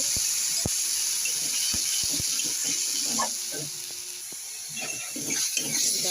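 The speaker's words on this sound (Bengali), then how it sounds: "দেখো এখানে পুরো ভাজা ভাজা হয়ে গেছে।" Coriander leaf paste with garlic and dried red chillies frying in hot oil, a steady broad hiss and sizzle that runs throughout with a few soft clicks and faint voices in the background.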